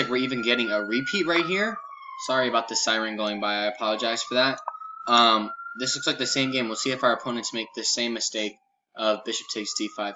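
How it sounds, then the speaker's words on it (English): An emergency vehicle's siren wails as it passes, rising and falling at moderate distance beneath continuous talking. "Sorry about the siren going by."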